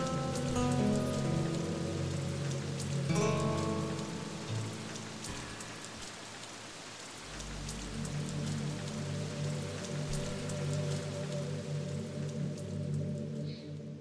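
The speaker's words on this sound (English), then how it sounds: "Do you like any more sounds of rain" Steady rain from the video game Doki Doki Literature Club patters on a surface with a soft continuous hiss, joined by faint tonal background sounds, no voices.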